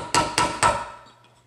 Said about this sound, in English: I'm just going to take my nail and hammer here